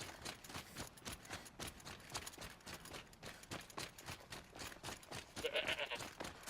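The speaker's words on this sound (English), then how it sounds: "you should play this DLC just because there's goats" Goats bleat in Horizon Zero Dawn: The Frozen Wilds under a dense, busy background of clattering and rustling noise, with a clearer bleat standing out near the end.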